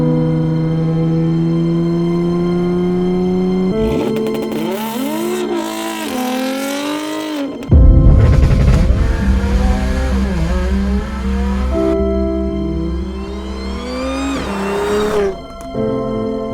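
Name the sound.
Audi S4 car driving and revving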